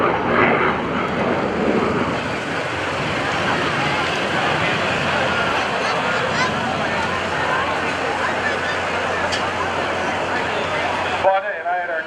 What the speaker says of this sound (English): As they pass in front of you, Fonda and Israel will pull the aircraft into the vertical